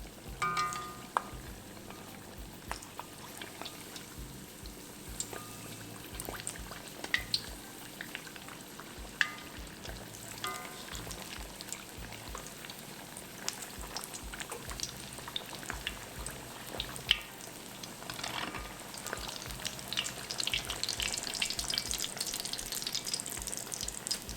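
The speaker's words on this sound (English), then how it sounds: "We'll fry these up until they're a nice golden brown." Malai kofta balls deep-frying in hot oil, a faint, steady bubbling sizzle that carries on without pause and grows slightly brighter toward the end.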